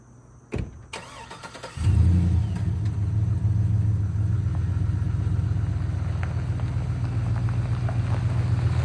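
A 6-liter truck engine, recovered for body shop work, fires up after a couple of clicks and settles into a steady low rumble and drone as it drives along, with no talking.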